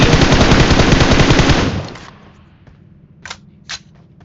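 Automatic gunfire in the BGMI mobile battle royale game, a loud rapid burst lasting about a second and a half that cuts off abruptly, followed by quieter game ambience and two brief sharp clicks.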